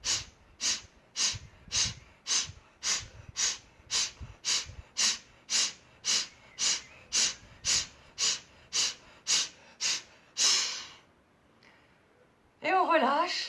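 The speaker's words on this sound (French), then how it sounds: "Attention, on inspire. Et on expire." Breathing exercise in a children's yoga session: about eighteen quick, forceful nasal breaths in an even rhythm, close and clear, then a longer breath, a pause, and a voice at the end.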